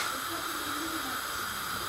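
Chicken pieces sizzle in hot frying oil, a steady close hiss with a constant crackling texture that runs without a break and no voices over it.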